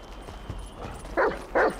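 Chop the dog barks twice in a Grand Theft Auto V mission, two short sharp barks close together near the end over faint game ambience and footsteps.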